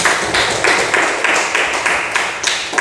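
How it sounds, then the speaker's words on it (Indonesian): A classroom full of students claps together in unison, giving loud, close, evenly spaced bursts of clapping. "Kita berikan tepuk tangan untuk Denny."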